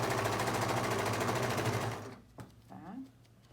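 A sewing machine runs fast and steady while stitching a French seam on a viscose dress, then stops abruptly, followed by a few soft clicks and handling sounds.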